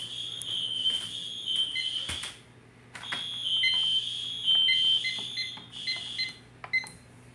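A Classic Spectre Alert fire alarm wired to a Simplex Sync module sounds loud, piercing electronic tones. The tones stutter in uneven bursts with brief gaps, out of step with the sync module.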